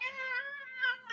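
A pet cat meows loudly and close up in one long drawn-out call, rising again near the end.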